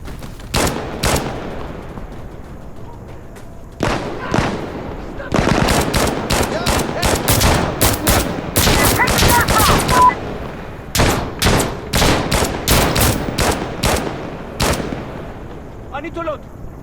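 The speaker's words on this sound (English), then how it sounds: "Stop shooting" Gunfire in the video game Insurgency Sandstorm during a PvP match, with rapid automatic bursts and single shots in dense clusters, loud and close, broken by short pauses.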